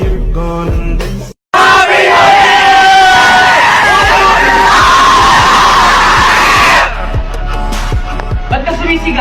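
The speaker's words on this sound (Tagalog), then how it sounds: "Ba't ka sumisigaw?" A loud, raw shout of screaming and yelling fills several seconds after a brief cutout, with music and other voices around it before and after.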